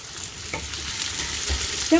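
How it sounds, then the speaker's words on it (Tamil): Chopped onion frying in hot oil with mustard seeds, a steady close crackling sizzle throughout with a brief stirring scrape near the end. "கட் பண்ணி வச்சுட்டு இருந்த ஒனியனால் நான் கொஞ்சம் போட்டுக்கொண்டு இப்போ இது கொஞ்சம் பொரியட்டும்"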